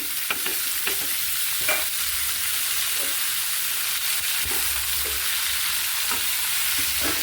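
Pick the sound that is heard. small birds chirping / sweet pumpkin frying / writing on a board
sweet pumpkin frying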